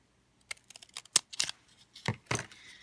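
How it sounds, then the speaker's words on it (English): Scissors cutting paper lining for a box made from a toilet paper roll, a quick run of close, crisp snips and rustles in an uneven rhythm, with no talking. "Now what I'm going to do is I'm going to cut it this way"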